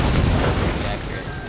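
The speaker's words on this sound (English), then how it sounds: "Here comes the mortars." Hand mortars fire in the Total War: Shogun 2 video game, a dense, loud rumbling burst of explosive booms filling the moment, with a voice talking over it.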